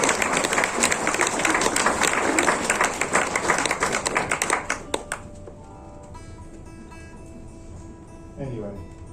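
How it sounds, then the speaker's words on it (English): Concert crowd applauding at a live gig in the Edinburgh Voodoo Rooms, dense clapping and cheering for several seconds that fades out abruptly, followed by quiet guitar tuning notes. "And we have a good round of applause for Jeffrey."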